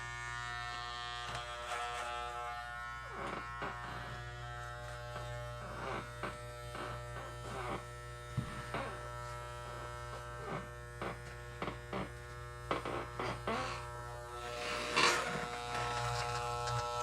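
An electric trimmer buzzes continuously while cutting the fabric fur of a monster costume, a steady close hum with uneven bursts and crackles as it bites into the fur.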